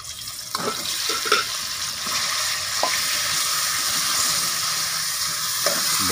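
Marinated boneless chicken fries in ghee in a pan, a continuous bright sizzle with a few clinks of stirring, no talking.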